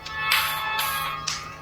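A Sony Walkman retro mobile phone plays audio through its built-in speaker: tinny, bright music with rhythmic bursts about every half second, steady and close, with no talking.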